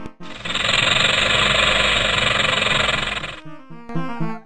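A rattlesnake's dry, continuous rattling buzz from the MS-DOS game Kids Zoo runs loud and steady for about three seconds, then cuts off abruptly, leaving a few short tonal notes.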